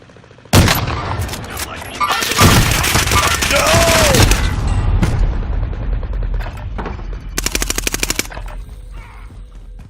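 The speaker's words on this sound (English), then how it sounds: "They're shooting at me!" Loud, sustained bursts of automatic gunfire in the Warzone video game, rapid rattling volleys with heavy booms and a short later burst, with a player's voice faintly underneath.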